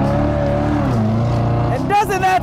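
A 2015 Hennessey Chevrolet Corvette Stingray HPE650 with the horsepower package revs its engine, a loud deep V8 tone that climbs in pitch and then surges higher in a sharp rev at the end.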